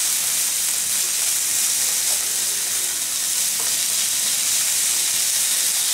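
Food sautéing in a home kitchen pan, seasoned with pepper, sizzling in a steady, dense frying hiss that holds evenly throughout, with a couple of faint utensil clicks.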